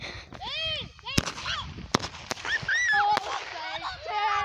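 Daytime consumer fireworks go off nearby: several sharp bangs and cracks mixed with rising and falling whistles and crackling, while people shout and talk excitedly throughout.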